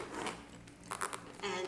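A zipper on a small Celine Pico belt bag being drawn closed, giving a few short raspy bursts that grow denser toward the end, close up and fairly quiet.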